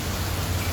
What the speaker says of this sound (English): Rain, rain, please go away.